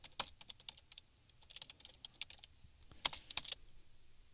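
Quiet clicking of a computer keyboard as code is typed, with bursts of uneven keystrokes and a quick flurry near the end, close and soft.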